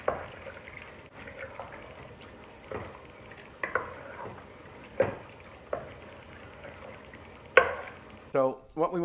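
Tripe in marinara sauce is stirred in a pan, with soft wet scraping and occasional clinks of the utensil against the pan, fairly quiet, ending with a few louder knocks.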